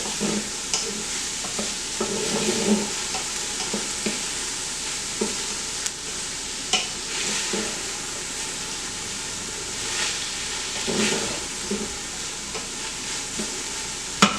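Garlic sizzles in a pan while red beans and sausage are being cooked, with a continuous moderate hiss broken by occasional spoon knocks and scrapes, and no one speaking.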